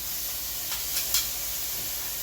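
Garlic frying in a pan with olives and capers going in, a steady close hiss of sizzling oil with a few brief louder spatters as the ingredients hit.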